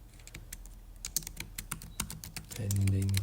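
Quick, uneven keystrokes clatter on a computer keyboard during data entry in a Zendesk automation setup, close and fairly quiet, ending in a brief low hum.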